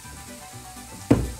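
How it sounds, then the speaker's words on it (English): Meatballs hit a heated pan near the end, setting off a sudden loud burst of sizzling frying after a second of quiet kitchen background. "you put your meatballs in your pan and you can hear them sizzling"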